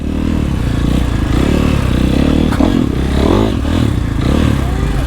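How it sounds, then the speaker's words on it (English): A supermoto motorcycle engine revs loudly and close by during a wheelie, rising and falling in pitch with some clatter and scraping, while a voice is faintly audible. "I'll give them a wheelie on their bike."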